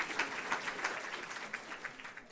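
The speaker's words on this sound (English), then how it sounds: "give yourselves a round of applause" An audience of almost 200 people gives a round of applause at a creative economy gathering, a steady fairly quiet patter of many hands clapping for the whole stretch, softening slightly toward the end.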